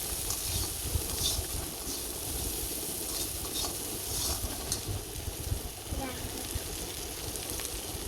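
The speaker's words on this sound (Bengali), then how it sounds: "পেঁয়াজটা হালকা হালকা ভাজা হয়ে আসছে।" Onions frying with salt in a pan for a small-prawn and banana chorchori, giving a steady, close sizzle with soft stirring scrapes that continue evenly throughout.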